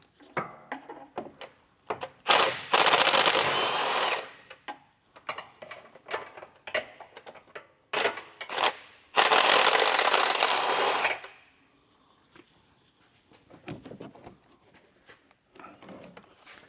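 Bolts on the axle disconnect of a Ford Explorer ST being loosened, with scattered metallic clicks and two sustained loud whirring bursts of a power tool, close by, then quieter tinkering.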